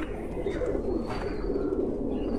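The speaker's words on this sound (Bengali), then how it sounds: "চমৎকার এক পেয়ার গোল্ডেন কবুতর দেখতে পাচ্ছি" Golden pigeons coo in a high-flying loft, low soft burbling calls repeating close by with a faint higher chirp over them.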